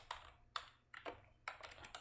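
Fingers tap on a computer keyboard while a basic HTML page is typed, giving short bursts of clicky keystrokes in quick clusters separated by brief pauses, close and fairly quiet, with no talking.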